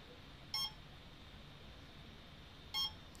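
Two short electronic beeps from a drone's brushless DC motor controlled by an Arduino, about two seconds apart, over a faint steady hum in a quiet room.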